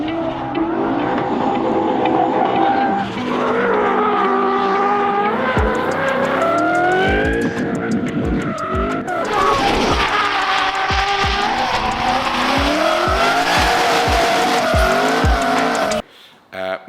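A Ford Mustang drives hard with tires squealing and skidding, its engine revving and rising and falling through repeated bursts over about sixteen seconds, loud and close, with some voices mixed in.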